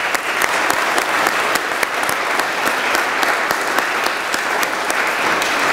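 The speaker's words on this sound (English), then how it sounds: "give all of those individuals a round of applause" Applause at an 8th grade graduation ceremony, a large audience clapping steadily and densely throughout, sustained and even with a few sharper claps standing out.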